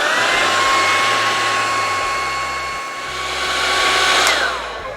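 A hood hair dryer blows steadily over hair set in curlers, a loud even whoosh with a low motor hum, dipping briefly near the end before rising again; no talk.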